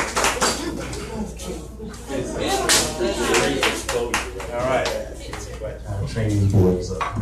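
Audience clapping at a spoken-word open mic, sharp irregular claps under a voice that keeps talking throughout, fairly close and moderately loud.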